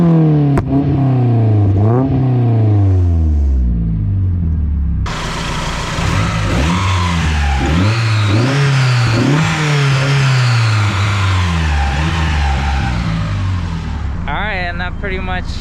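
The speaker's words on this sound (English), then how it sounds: "So now I'm gonna take some sound clips of the" A 1.6-litre Mazda Miata fitted with a CX Racing exhaust manifold, recorded from outside the car, revs up and down repeatedly in loud, close bursts that rise and fall around a rumbling idle.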